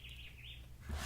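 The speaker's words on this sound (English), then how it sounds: "Yeah, it did stop raining. You can hear all the birds." Birds sing outdoors just after rain has stopped, a faint, steady warbling chorus heard at a distance against a low background hum.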